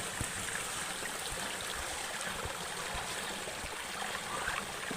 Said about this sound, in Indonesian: Di sungai pertama yang kita jumpai